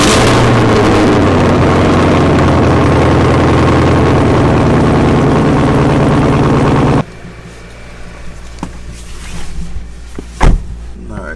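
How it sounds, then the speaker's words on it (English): An Acura Integra engine cold-starts and idles loudly and steadily for several seconds, then cuts off abruptly, followed by quieter rustling, a door-like thump and faint handling sounds. "let's get a cold start real quick"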